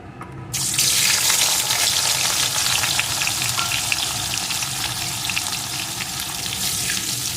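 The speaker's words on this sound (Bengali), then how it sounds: "এখন আমি উচ্ছে টুকরোগুলোকে দিয়ে প্রথমে ভেজে নেব" Bitter gourd pieces drop into hot mustard oil and burst into a loud, continuous frying hiss that starts abruptly and holds steady, close by, with no talking.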